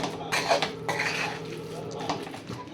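A spoon stirs and scrapes a potato stuffing seasoned with salt and black salt in a bowl, making a few close clinks and soft mixing scrapes, fairly quiet, with no talking.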